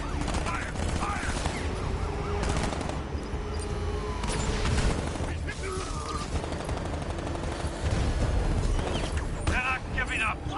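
Rapid bursts of gunfire in a combat scene, sharp repeated shots over a dense background of engine rumble and mechanical noise, with voices shouting between volleys.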